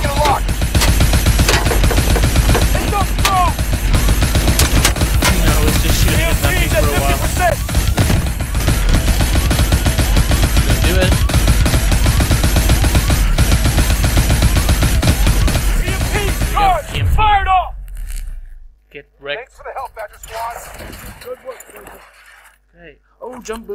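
Call of Duty: Advanced Warfare gameplay rattles with dense, sustained automatic gunfire and clattering effects, with voices in the mix, before the shooting cuts off and gives way to sparse, quieter game sounds.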